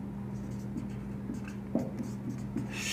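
Pen or chalk scratching out an equation, soft rubbing strokes with short pauses over a steady low hum, no speech.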